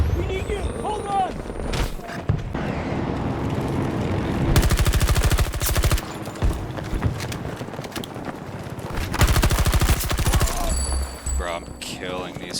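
Automatic gunfire in the video game Battlefield 2042, long rapid bursts of shots alternating with quieter stretches, loud and close, with a player's voice talking at points.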